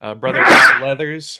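A single loud, explosive sneeze bursts out in the middle of a man's speech, with talking just before and after.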